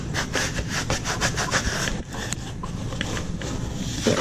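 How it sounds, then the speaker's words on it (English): A squeegee presses vinyl down onto a board for a canvas craft project, making steady, close, rhythmic rubbing strokes that repeat for a few seconds with no talking. "use my squeegee and squeegee my vinyl down to the board"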